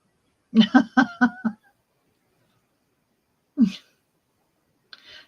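A quick burst of several sharp sneezes close by, then a pause and one more sneeze, followed by a faint breathy sound.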